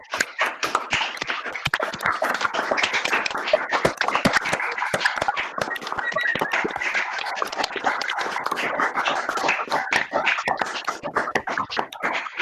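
Participants in an online session on the judicial system and information technology clap into their microphones, producing a busy, uneven patter of sharp, close claps and taps that continues for over ten seconds with little pause.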